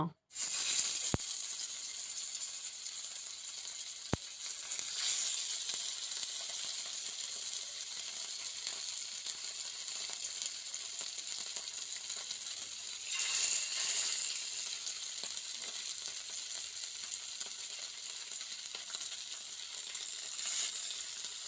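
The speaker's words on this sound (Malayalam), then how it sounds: "ഇനിയിപ്പോൾ മീൻ വറുക്കാനായിട്ട് പോവാണ്" Fish fries in a pan in a home kitchen with a steady, bright sizzling hiss that swells briefly a few times, plus a couple of sharp clicks near the start.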